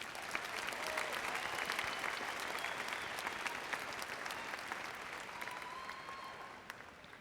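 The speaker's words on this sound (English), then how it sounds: "One more round of applause" A large crowd applauds steadily throughout at a high school graduation ceremony, a continuous wash of clapping heard from a distance and fairly faint, with no talk over it.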